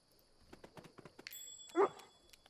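A dog barking in Pathfinder Kingmaker, heard as a few quiet thuds and taps followed by one short, louder bark, with a faint voice speaking.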